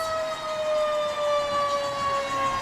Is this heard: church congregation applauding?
no